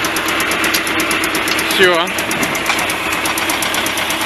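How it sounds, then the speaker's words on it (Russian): A T-25 Vladimirets tractor engine runs steadily and loud throughout with a continuous rumbling drone, a brief voice heard over it midway. "Еду я на тракторе."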